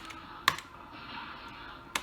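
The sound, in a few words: pressing enter key on computer keyboard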